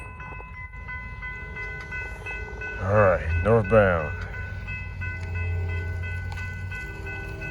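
Norfolk Southern freight train on the Charlotte District rumbling past northbound with a steady low roar and a loud horn blast midway, while someone talks nearby over the passing cars.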